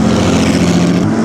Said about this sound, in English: here comes the black Ferrari